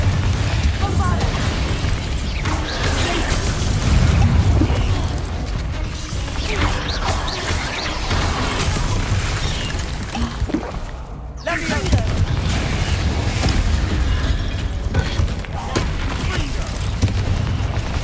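Bombardo blasting spell explosions in the Hogwarts Legacy video game, loud booms and crashing bursts layered over continuous battle noise, with a brief dip before the chaos resumes; a voice speaks amid the action.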